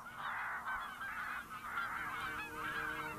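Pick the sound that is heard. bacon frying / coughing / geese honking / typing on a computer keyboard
geese honking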